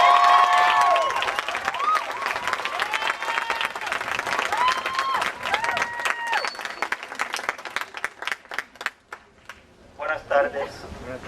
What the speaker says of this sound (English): a big round of applause for Jorge Mariscal.